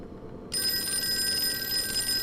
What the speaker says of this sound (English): I guess we gotta answer the fucking phone, huh?